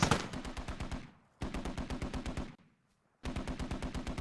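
NSV heavy machine gun firing in the video game Squad: three sustained bursts of rapid, evenly spaced heavy rounds separated by brief pauses, loud and alone without speech.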